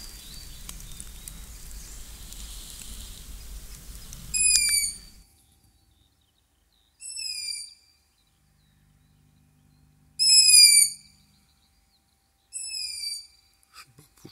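Tawny owls in an old forest give four short, high, squeaky calls spaced a few seconds apart, clear against near-silence after a brief stretch of low rumbling noise at the start.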